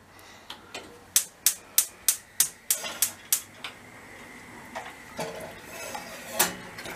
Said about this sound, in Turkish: Kepçeyle kemik suyunu alıyoruz.